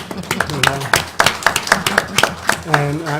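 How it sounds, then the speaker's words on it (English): A few people at a school board meeting clap briefly, the scattered claps rising and falling under someone speaking close by. "I just think we need to give them a round of applause"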